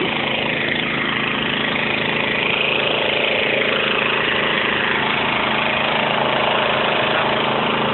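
A small water pump engine converted to run on LPG gas drones steadily and loudly at a constant idle, with no voices.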